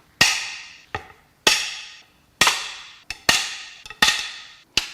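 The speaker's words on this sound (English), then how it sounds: "we're just going to use the breaker bar" Sharp metallic cracks ring out as a breaker bar loosens tight bolts on a blown-up Mazda 3 2.3L engine, about eight distinct snaps at uneven intervals, close and fairly loud with brief decaying rings.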